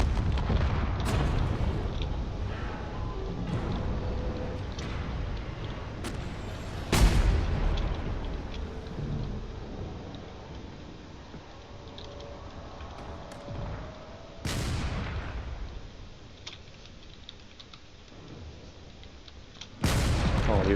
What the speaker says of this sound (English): Oh, these corvettes are just firing away